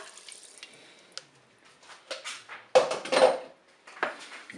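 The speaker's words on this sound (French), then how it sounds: "Je vais verser mon eau." Water is poured into a Cookeo multicooker pot holding crumbled beef stock cube for a white bean and tomato dish, in short, close, splashy bursts with quiet gaps between.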